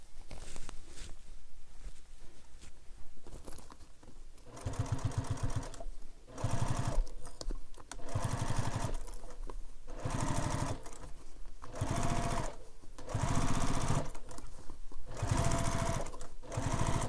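A sewing machine stitching bag fabric, running in repeated bursts of fast needle chatter of about a second or two each, separated by short pauses, close and clear.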